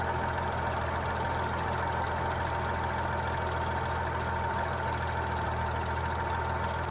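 A small aircraft's engine idles on the ground before run-up, a steady mid-to-low drone with a faint high whine, even and continuous throughout with no voices.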